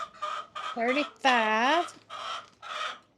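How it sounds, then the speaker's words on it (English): Hens clucking in a backyard chicken coop during egg collection, a few short throaty clucks and one drawn-out squawk, close by, with a person counting aloud over them. "I've got two hens in there."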